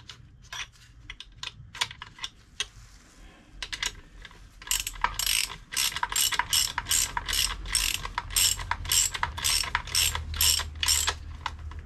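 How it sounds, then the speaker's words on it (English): Half inch spanner on a ratchet tightening a nut and bolt on a Classic Mini A+ Series engine during a rebuild: sparse clicks at first, then a fast, loud run of rapid ratcheting clicks, close up. "So, the next job, do up the nut and bolt. Half inch spanner on the nut at the bottom."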